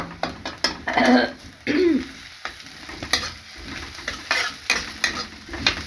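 Ginger garlic paste with chillies frying in a pan, giving a soft continuous sizzle broken by repeated spoon-stirring knocks, with a cough and throat clearing heard close by.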